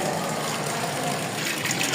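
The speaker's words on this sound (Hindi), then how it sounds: "अभी ये पानी डाल के इसको ढकना दे दूंगा, मिक्स करूँगा एक बार पानी भर जाए।" Water pours steadily from a tap or hose into a large pot of chickpeas, a loud, continuous gushing splash with no pauses.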